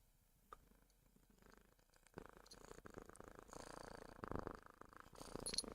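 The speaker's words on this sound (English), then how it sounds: "you hear the purrs of this cat?" A cat named Pickle purrs very faintly and close, a low soft rumble that grows slightly louder and steadier over several seconds with small rustles mixed in.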